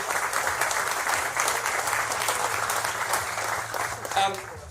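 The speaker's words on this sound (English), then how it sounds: "Please help join me in giving them a round of applause" An audience applauds the Cleveland Orchestra at a celebration marking 50 years since the last Cuyahoga River fire, with dense, steady clapping that holds throughout and swells briefly near the end.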